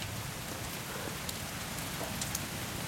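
Hail pummeling down during a storm in Siena, a dense, steady hiss of pelting ice and rain on surfaces with scattered sharper ticks, continuous and moderately faint throughout.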